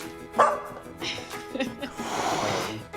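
Pet dog barking indoors in a home shared with a cat, a couple of short yips and barks mixed with snorting and whimpering, close by, with people talking over it.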